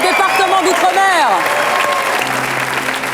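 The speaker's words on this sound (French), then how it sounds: "On peut tous les applaudir." A TV game show studio audience on TF1 applauds contestants, steady clapping with a host's excited voice speaking over the start.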